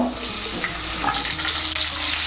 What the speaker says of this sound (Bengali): আলুটাকে তেলের সঙ্গে মিশিয়ে নেব, মিশিয়ে নিয়ে আলুটাকে ভেজে নেব।